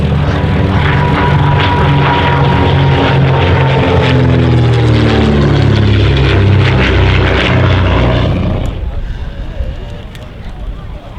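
A propeller aircraft lands at an air show, its loud, steady engine drone with shifting harmonic tones filling most of the clip before dropping away sharply near the end, with voices talking over it.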